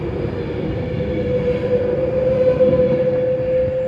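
An Avanti West Coast Pendolino passes through Nuneaton station, a loud, continuous rail roar with a steady high whine held throughout.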